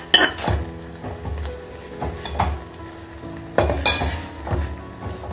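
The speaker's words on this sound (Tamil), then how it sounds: "இப்போ இந்த கொதிக்கிற தண்ணியில சேர்த்துடலாம்." Semolina is stirred into boiling water with a soft sizzle, as a metal spoon scrapes and clinks against the pot in irregular strokes.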